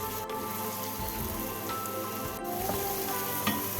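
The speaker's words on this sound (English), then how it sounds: "Next goes in 1 small chopped tomato. We will cook this until the tomato becomes soft." Chopped tomato sizzling in a hot kadai while a Goan kingfish curry cooks, a soft, steady crackle and hiss with occasional faint pops, alone and fairly quiet.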